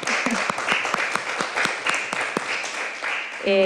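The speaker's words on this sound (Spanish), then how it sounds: "Un aplauso para que sepan" Sustained applause from an audience at a constitutional convention committee session, steady dense clapping filling the whole stretch, with a brief tonal sound at the very end.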